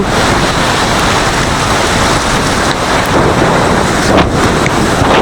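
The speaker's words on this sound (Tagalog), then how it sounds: "Lakas ng alon." Strong waves pound during a typhoon in a coastal village, heard as a loud, continuous roar of surf mixed with rain and buffeting wind on the microphone, with no voices.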